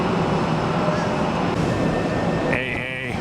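An airliner takes off from runway 1 left at Tampa airport, a loud, steady broadband jet roar that holds for the full few seconds, with a brief whining tone near the end.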